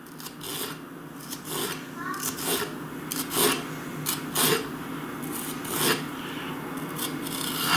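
A knife slices a fresh jalapeno into long strips on a cutting board, a series of close, crisp rasping strokes in an uneven rhythm, with a faint voice in the background.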